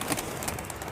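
A Rampuri pigeon gives a brief, soft cooing call, close but faint, lasting about a second with pulsing breathy notes.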